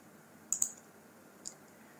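A few sharp computer mouse clicks while scanner software installs, a quick double click followed by a single click, close and clear over quiet room tone.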